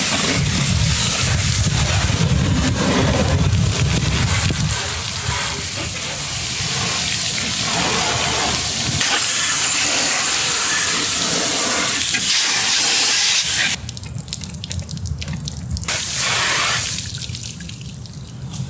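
Water spraying continuously over a window air conditioner during cleaning, a loud, close rushing hiss that shifts in tone as the stream moves, with a brief drop near the end.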